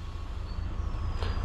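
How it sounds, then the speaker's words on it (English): Rear air exhaust from a tractor-trailer truck after coupling, a brief hiss of released air over a steady low idling rumble, close by. "Confirm that you hear that rear exhaust noise"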